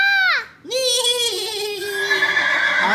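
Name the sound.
child imitating a horse neigh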